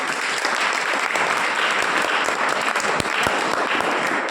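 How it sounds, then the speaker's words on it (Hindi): A Hindi-speaking audience at a religious discourse claps for themselves, producing a continuous, dense roar of applause from many hands that stays loud and even throughout without any talking. "बजाओ फिर एक बार अपने लिए ताली।"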